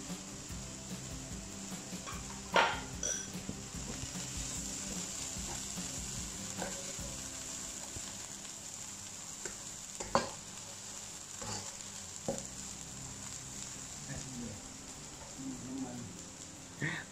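Mama instant noodles are stir-fried in a pan, with a steady sizzle and frying hiss under intermittent scraping and knocking of a utensil against the pan, heard close up while people talk over it.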